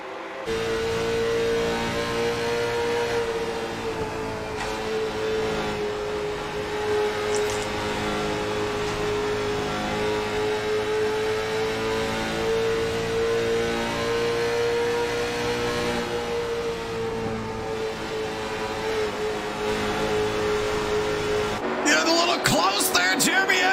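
Late model race cars circle the track with the Bud Light 72 car in the lead, a steady loud engine drone holding for the whole stretch before a sharp change near the end; commentary runs underneath.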